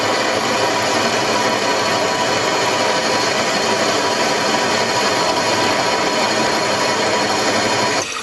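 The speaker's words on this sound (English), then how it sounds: "25 mil deep with the drill." Power drill boring a 25 mm deep hole in the headstock of a mini lathe, a loud continuous whirring grind that holds steady for several seconds and cuts off at the end.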